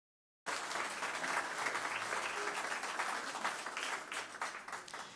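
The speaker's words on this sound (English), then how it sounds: "can you give yourself a round of applause" Large audience applauding at the 2019 National Indigenous Arts Awards ceremony, a dense, steady wash of clapping that starts abruptly and holds for several seconds before beginning to thin slightly toward the end.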